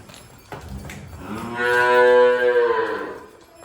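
A dairy buffalo at a livestock sale gives one loud, drawn-out moo close by, preceded by a short grunt, with no voices over it.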